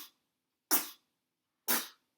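Short, sharp sneezes: one clipped at the very start, then two distinct bursts about a second apart, each a quick explosive puff that fades fast, with silence in between.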